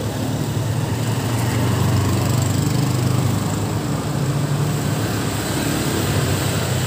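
A Honda Click 125 scooter engine runs at a steady, fairly high pitch, droning continuously and close by for several seconds with a slight swell in the middle, with no talk over it.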